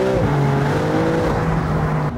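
A Maserati MC20 Cielo launching from a standstill, its engine note loud and close as it climbs and settles into a steady roar of acceleration.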